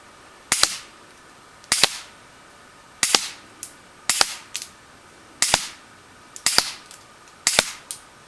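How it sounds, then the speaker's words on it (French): A KWC M1911 A1 airsoft pistol fired at a 15-metre target, sharp crisp cracks of seven or so single shots spaced about a second apart, each with a short metallic rattle, loud and close with no talking. "Et maintenant on va passer au test de tir à 15 mètres."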